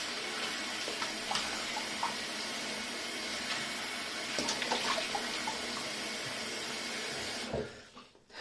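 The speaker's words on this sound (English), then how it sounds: "So I will just rinse my face and we'll get started." Water runs steadily from a tap as a face is rinsed at a sink before shaving, with faint splashes mixed into the flow. The running water cuts off just before the end.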